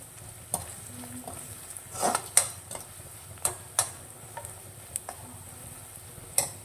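A spoon stirring spices into food in a pan, with sharp clinks and scrapes against the metal at irregular intervals over a faint, low sizzle, fairly quiet overall.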